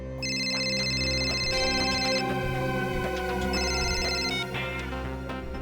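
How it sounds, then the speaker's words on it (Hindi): A melodic phone ringtone plays steadily and fairly loud, with a repeating electronic chime pattern over a sustained musical backing; no one speaks. "अरे किसका फोन था? काट तो दिया, उठाना चाहिए था ना।"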